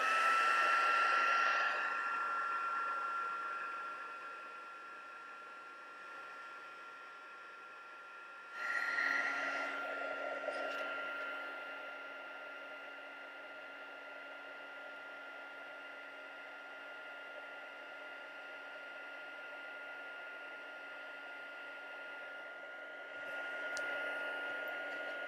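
Heat tool blowing to set embossing on vellum paper, a steady whirring hiss that fades, then starts up again and runs on at a moderate level.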